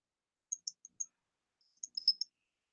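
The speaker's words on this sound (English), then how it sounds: "I'm typing Arabic." Computer keyboard being typed on while entering Arabic text: two short clusters of faint, crisp keystroke clicks separated by a pause, heard alone in a quiet room.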